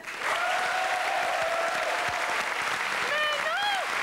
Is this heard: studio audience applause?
yes